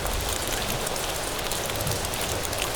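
Steady rain falls outdoors near a porch where puppies play, a dense, even hiss of drops on surfaces holding at a constant level throughout with no voices.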